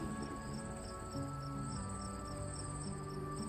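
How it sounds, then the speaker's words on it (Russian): Crickets chirp on a summer night in a soft, steady pulsing trill, faint and distant beneath a sustained musical drone, with no voices. "Появляются звуки летней ночи."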